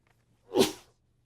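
One quick sneeze cuts through an otherwise quiet hearing room, fairly close and sharp, then fades.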